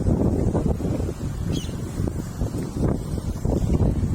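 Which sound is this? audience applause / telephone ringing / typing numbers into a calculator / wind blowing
wind blowing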